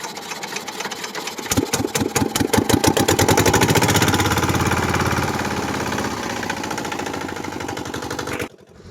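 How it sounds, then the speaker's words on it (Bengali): A country boat's engine on the Rupnarayan river starts with a few sputters, then settles into a loud, close, rapid chugging rhythm that runs steadily before cutting off abruptly near the end. "আব্বা ইঞ্জিন স্টার্ট দিচ্ছে, এক্ষুনি আমরা বেরিয়ে পড়বো।"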